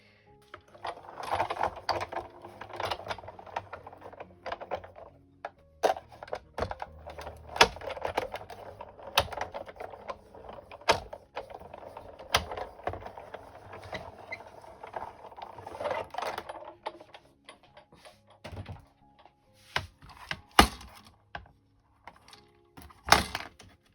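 A Spellbinders Wonder of Oz die-cutting press with plates and dies is worked on a tabletop, giving a steady run of close mechanical clicks, ratcheting and clunks with a few sharper knocks near the end, no voices.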